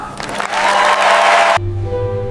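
An audience applauds as President Abraham Lincoln arrives at the play, a dense wash of clapping that swells and then cuts off abruptly into quiet music.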